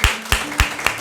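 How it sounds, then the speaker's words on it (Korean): A church congregation at a Thanksgiving Sunday service claps to welcome and encourage the standing elders; four sharp, evenly spaced claps ring out close by. "네, 박수로 환영하고 격려하겠습니다."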